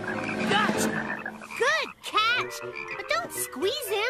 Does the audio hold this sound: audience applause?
no